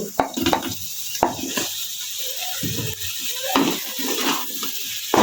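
Tomatoes tossed into chicken frying in a pan, with a soft sizzle under sharp clacks of a spatula stirring against the pan.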